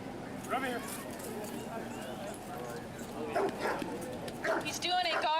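A protection dog barks while guarding during a K9 academy demonstration, its sharp barks bursting over a crowd's steady chatter and an announcer's voice, with louder bouts toward the end.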